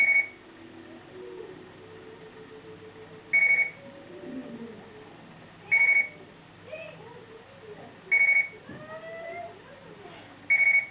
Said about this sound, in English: So that's set to beep. Basic alarm clock beep.